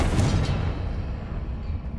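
A Confringo fire spell explodes in Hogwarts Legacy, a rumbling, booming blast that swells at the start and then settles into a sustained low roar for about two seconds, with no voices.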